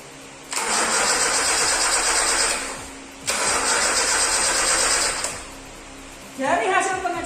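Starter whirs loudly as a Toyota Kijang 5K engine on a workshop stand cranks in two long bursts without firing, a lack of coil spark keeping it from starting, followed by a short third burst.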